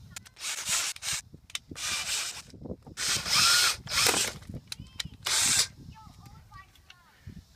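Several bursts of a drill boring through the rear speaker panel of a 2003 Toyota Camry, close and loud, separated by short pauses with quieter handling noise between.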